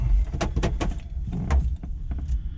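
The door of a Bell 206 helicopter is pulled shut in the cockpit, heard up close as a loud clunk with rattling latch and handling noises over a steady low rumble.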